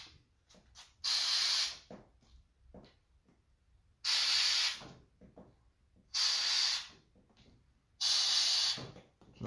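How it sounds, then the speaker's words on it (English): An aerosol can sprays paint through a stencil onto a crankbait fishing lure in four sharp, hissing bursts of about a second each, separated by quiet handling noises. "stick the stencil on there and just spray through it"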